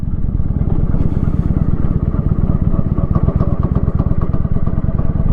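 A motorcycle engine chugging at low throttle with no clutch, a loud and close rapid rhythmic thumping that holds steady and even throughout.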